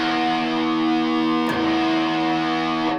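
A Revelation RJT60TL electric guitar played through heavy distortion, two sustained, buzzing chords ringing loud and thick, the second struck about halfway through, with no talking.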